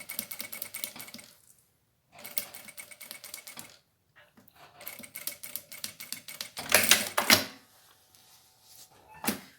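A sewing machine runs in bursts while stitching a zipper onto a rounded zip pouch, with a steady fast mechanical whir broken by short pauses and a louder rattling stretch near the end.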